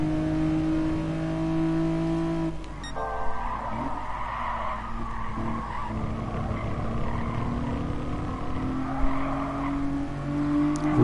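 A Renault Clio V6 races in Gran Turismo Sport, its engine whining steadily before a shift and then revving through corners as tires squeal and skid, a loud game mix with no talking.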